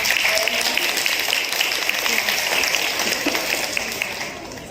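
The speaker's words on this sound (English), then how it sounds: "please everyone applaud for" At a school annual prize day, the gathered audience breaks into sustained applause, a thick, even clapping that stays steady and fades slightly toward the end.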